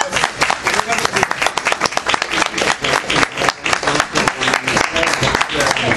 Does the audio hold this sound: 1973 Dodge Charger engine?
no